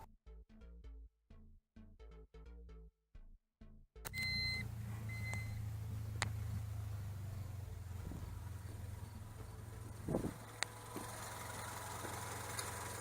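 A turbocharged Honda D16 engine swap idles steadily and fairly quietly with a low mid-pitched hum and a few faint clicks, following a short run of rhythmic mechanical beeps.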